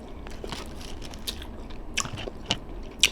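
Chewing and biting into Jollibee fried chicken close up, soft irregular crunches and squishy mouth sounds with a few sharper crackles, no talking.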